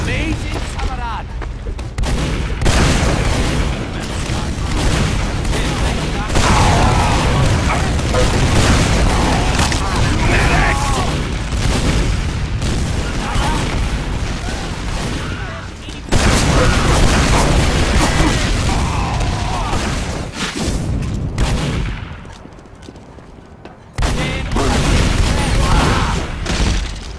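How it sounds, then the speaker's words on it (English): Gunfire and explosions in the video game Team Fortress 2 on the cp_badlands map, with dense repeated shots and booming blasts running loud and almost continuous, mixed with game voices and player chatter. "Who's shooting?"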